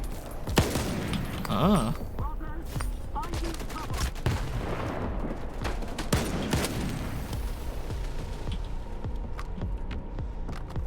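Gunfire in the video game Stalker 2, shooting at emitters during a boss fight in Lab X5: dense, repeated bursts of shots sound close and loud over game noise, with a brief exclamation from a player.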